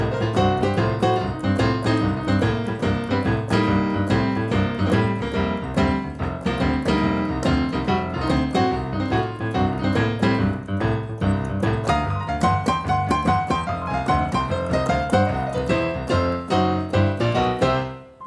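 A lively piano solo using the C blues scale runs bluesy phrases over a steady rhythm, notes tumbling continuously at an even, moderately loud level.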